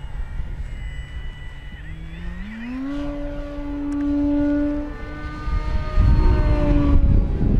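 An FMS DeHavilland Beaver 2000mm RC plane flies slowly overhead with full flaps, its electric motor whining in a rising, sustained tone that swells and fades against wind noise outdoors.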